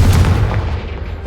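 A booming Confringo fire spell blast in the video game Hogwarts Legacy, one loud, heavy explosive burst that rolls off quickly into a fading rumble.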